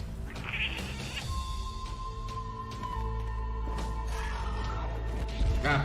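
A cat meows in a video game trailer, a few short mewing calls over music and rumbling game sounds, with a voice talking faintly in the mix.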